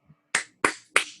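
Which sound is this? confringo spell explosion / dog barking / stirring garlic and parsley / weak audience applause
weak audience applause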